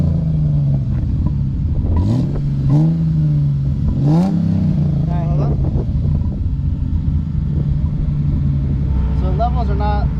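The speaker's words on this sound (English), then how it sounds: "Can you give me a couple revs real quick?" A classic 1976 BMW 2002 engine revs a few times, rising and falling over a steady idle rumble, loud and close, while a person talks over it.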